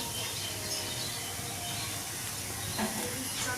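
Steady broadband hiss of steam rising from a pot beneath a steamer for pomfret fish, continuous and fairly close, with faint clinks and a few small chirpy squeaks near the end.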